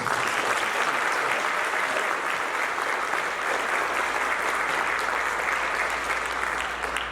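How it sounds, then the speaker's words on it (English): Full, dense applause from a concert audience for high school band students, a loud, even roar of many hands clapping that holds steady for about seven seconds without a break. "Give them a round of applause."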